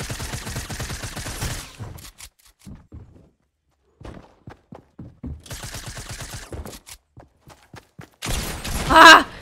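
Rapid bursts of gunfire in Fortnite come in three volleys, separated by scattered clicks and short thuds, with the final burst loudest.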